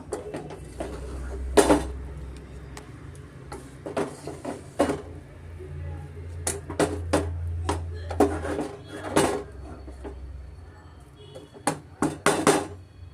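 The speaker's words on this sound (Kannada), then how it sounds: "ಈಗ ನಾನು ಬ್ರೆಡ್ಡು ಫ್ರೈ ಮಾಡ್ಕೊಂಡಿರೋದನ್ನ ಸೇರಿಸಿ ಚೆನ್ನಾಗಿ ನಾನು ಮಿಕ್ಸ್ ಮಾಡ್ಕೊಡ್ತಾ ಇದ್ದೀನಿ" Fried bread pieces stirred into vegetable bread pulao in a pan, with a spatula scraping and knocking against the metal in irregular bursts of clinks and taps, close and moderately loud, with no talking.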